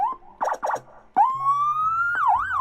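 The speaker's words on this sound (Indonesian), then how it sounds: "Ada juga yang bilang kalau jumper itu kayak klakson tambahan" An ambulance jumper, an extra siren-like horn, gives two quick warbling yelps, then a long, loud, steadily rising electronic tone that wobbles at the end.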